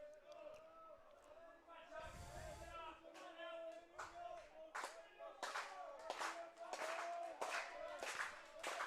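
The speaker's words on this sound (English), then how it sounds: "Badgers fans clapping in unison, trying to will their pitcher through here." Fans of the Brock Badgers clap together in a steady rhythm at an OUA university baseball regional semifinal, the sharp claps rising in force over crowd murmur while a voice talks through them.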